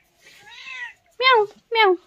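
Two loud, close cat meows, each rising then falling, follow a fainter, longer mewing call, with short silences between them and no other sound.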